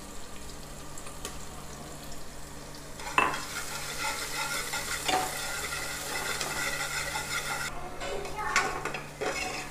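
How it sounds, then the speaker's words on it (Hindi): Steady sizzling of onion and garlic frying golden brown in a pan, with occasional scrapes and clinks of a utensil stirring, continuous and close throughout. "प्याज हम गोल्डन ब्राउन होने देंगे। अब मैं लहसुन भी डाल रही हूँ"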